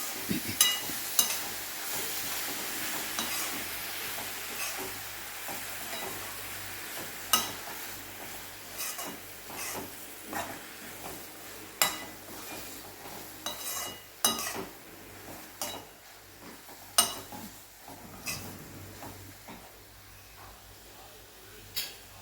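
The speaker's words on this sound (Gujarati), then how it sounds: "એને પણ એક વખત મિક્સ કરી લેવાનું છે।" Cashews and ridge gourd curry mixed in a pan, with soft scraping and intermittent clinks of a spoon against metal, some louder scrapes standing out over a low background hiss.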